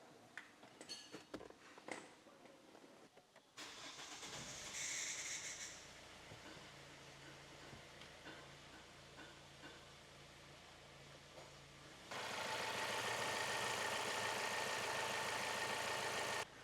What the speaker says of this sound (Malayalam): ഇനി നമുക്ക് വണ്ടി ഒന്ന് സ്റ്റാർട്ട് ചെയ്ത് നോക്കാം